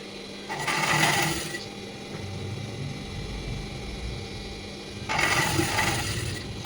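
A sewing machine stitches piping onto a square-neck blouse, a steady whirring mechanical hum with a rhythmic needle clatter that swells louder twice, close up and without speech.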